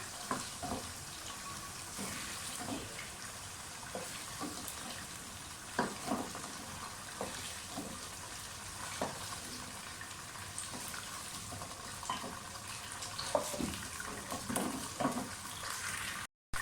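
Chicken pieces frying in a pan for a palak gosht dish, a steady broadband sizzle with scattered pops and crackles running continuously, close and fairly loud, with no talking.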